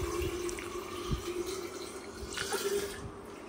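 Boiled water streams into a container for salted mango pickle, a soft steady pouring splash with a light thump partway through, close and fairly quiet.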